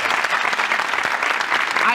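A short burst of lively applause from a talk show audience, many hands clapping close and loud, continuous and fairly even, with voices mixed in.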